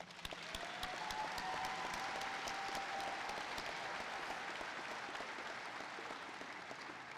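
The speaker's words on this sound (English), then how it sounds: "If we could give those a round of applause" Steady round of applause from a commencement crowd at a Salina Tech graduation ceremony, dense clapping held evenly for several seconds, fairly soft and distant, with no talking.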